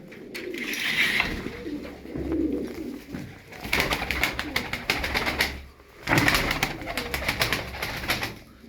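Domestic pigeons, including crested tumbler birds, coo repeatedly in a loft, with soft overlapping calls and bursts of wing flapping and rustling close by.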